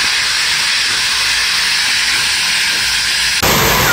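Onion, tomato and chili hit hot oil in a kadai, giving a loud, continuous, dense hiss of sizzling that barely varies, with a sudden surge in intensity near the end.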